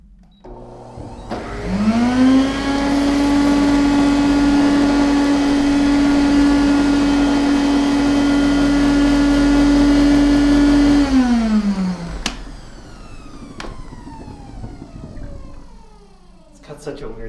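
AURA Roboclean water vacuum cleaner running with a strange gargling, watery motor whine that rises as it starts, holds a steady loud tone, then winds down and stops, with a person's voice faintly around it.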